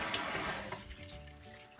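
Water streams from a Seoul Stone shower head in a steady, close hiss, strongest in the first moments and then settling into a softer continuous spray.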